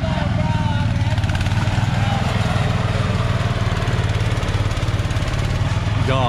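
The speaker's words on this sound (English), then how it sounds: "Those Mudzillas are about to chooch up his hill in low gear." An off-road Mudzilla tractor crawling up a hill trail in low gear, its engine droning steadily and loudly without letup throughout, with voices faintly under it.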